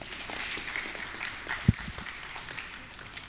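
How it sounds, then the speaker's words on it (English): Audience applause after an invitation to honour guests at a memorial lecture event, a steady faint wash of clapping from a distant crowd with one sharp thump partway through. "Please give them a round of applause."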